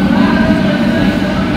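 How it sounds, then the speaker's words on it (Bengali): A local train bound for Digha rolling into the station, a close, steady low rumble with a droning mechanical hum and faint crowd murmur around it. "এই সবে ট্রেন ঢুকছে আমাদের"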